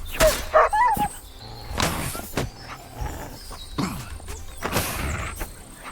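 A dog in the video game Kingdom Come Deliverance 2 lets out several sharp, separate barks and yips at close range, with thuds and scuffles between them and no speech.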